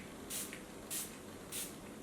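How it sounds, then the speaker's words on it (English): Three quick hissing spritzes from a rose gold facial skin mist spray bottle, evenly spaced about every half second to second, close by with no talking. "And these have a very nice spray."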